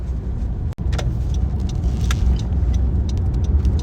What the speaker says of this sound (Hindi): तो फाइनली अब हमारी गाड़ी भी फेरी में आ ही गई है.